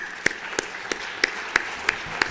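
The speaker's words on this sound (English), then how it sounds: "give her a round of applause for her strength and her courage" A gallery audience in a legislative chamber applauding, with sharp, evenly spaced loud claps standing out every third of a second over a softer patter of clapping.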